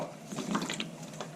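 Water rushes and gurgles steadily into an upturned can sitting in a bowl of water, a continuous close sloshing fill with no voices.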